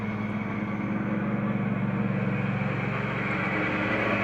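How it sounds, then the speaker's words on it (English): Lawnmower engine running outdoors, a steady loud low drone that holds unbroken throughout with no voices. "No, that's a lawnmower."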